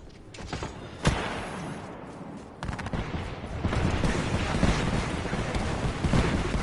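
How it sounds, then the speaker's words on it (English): Video game combat with sustained gunfire, sharp bursts of shots and automatic fire rattling almost without a break, loud and close, with a few sharper single cracks standing out. "Opening fire on the enemy."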